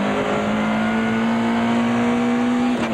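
Toyota Celica GT rally car, number 2, driven by Zimbabwe's Billy Rothenbach in the Castrol Rally, holding a steady loud engine note throughout with a slight shift near the end, close and continuous with no talk.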